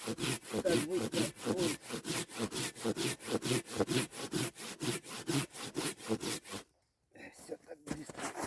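Hand saw slowly cutting through hard wood outdoors, a steady rhythm of loud back-and-forth rasping strokes, pausing briefly near the end before a few more strokes.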